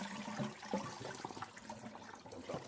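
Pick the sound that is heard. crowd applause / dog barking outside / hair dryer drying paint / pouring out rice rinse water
pouring out rice rinse water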